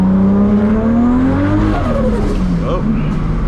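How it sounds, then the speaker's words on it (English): A 1000+ hp Toyota Supra MK4 doing a burnout on a slippery road, its engine revving hard with tyre squeal as traction control cuts in and the pitch wavers, loud and close from inside the car. "Do a burnout, okay."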